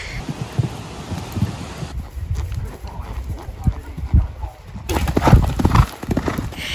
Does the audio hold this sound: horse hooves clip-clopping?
yes